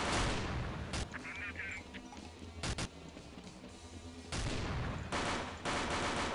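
Zapping weapon blasts from Counter-Strike 1.6 Nemesis Mode, several loud bursts in quick succession with busy game noise between them.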